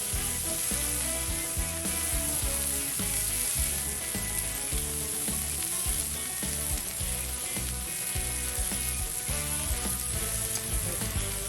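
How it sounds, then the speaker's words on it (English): Buttered bread and burgers sizzling on a grill plancha for Vietnamese bánh mì burgers: a loud, continuous frying hiss and crackle, steady throughout with faint scraping, while music plays underneath. "put a little butter that's softened up here on them, and lay them down on the grill too to give it a nice toasting"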